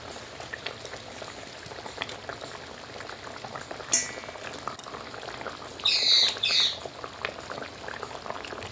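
Bhola fish curry gravy bubbling in a pot, a close, steady boiling burble throughout, with brief chirps of a bird twice in the background.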